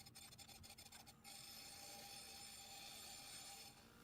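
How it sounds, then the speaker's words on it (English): Steel bars for a backyard offset smoker grate are deburred with a steady, close, continuous rasping scrape that runs on without a break after a few short strokes at the start. "And then I'm just going to deburr all these."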